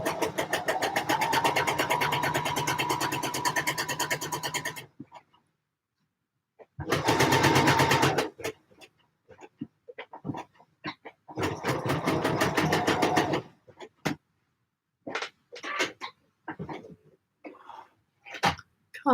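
A domestic sewing machine stitches a neckline on a gable top in loud, steady bursts, a long run followed by shorter stop-start runs separated by pauses and small handling clicks.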